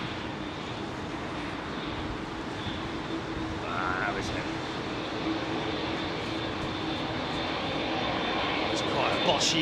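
An Air Canada airliner lands on runway 27R at Heathrow, its engines giving a continuous broad roar at close range that holds steady and swells slightly toward the end.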